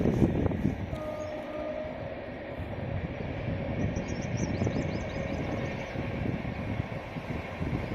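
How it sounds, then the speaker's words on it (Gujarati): A train passing at a distance beyond a farm orchard, heard as a low steady rumble of rolling wagons with a faint high horn-like tone midway, with no voices. "ટ્રેનનો અવાજ આવતો હશે તમને,"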